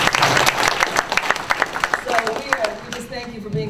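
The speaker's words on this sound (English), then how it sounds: "Give yourselves a round of applause." A panel breakfast audience applauds with dense, bright clapping that starts loud and thins toward the end, with a voice speaking over part of it.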